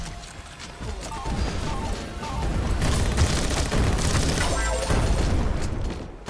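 Explosions in the roguelike battle royale game Skillshot City: a dense, loud run of crashing blasts and booms with clattering debris, continuous for several seconds.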